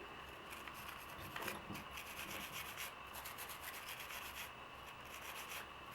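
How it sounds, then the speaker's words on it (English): An AP brush with WD-40 scrubs a rifle trigger, giving a continuous close, quiet bristly rubbing and scratching with small shifts in rhythm throughout. "scrub that trigger"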